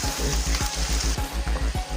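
Meatballs fry with spices in a hot pan for Javanese fried noodles, a loud steady sizzle broken by rhythmic scraping stirs about every quarter second, close up.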